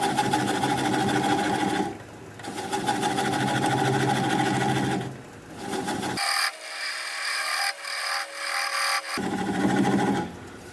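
Wood lathe spinning as a gouge turns a tri-corner bowl, with speed dropping to about 400 RPM; a steady scraping, humming cut comes in stretches, broken by short pauses and one longer quiet gap.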